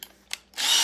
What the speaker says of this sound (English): Now you want to make sure that you keep your drill as straight and as steady as possible